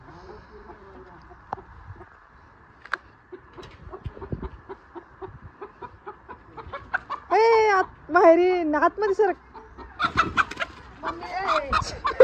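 Several chickens cluck and squawk loudly up close in bursts, with scattered thumps and a person speaking briefly amid the commotion.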